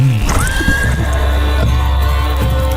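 A horse neighs loudly in a Crusader Kings 3 game trailer, one long rising whinny over a deep, continuous musical drone and rumble.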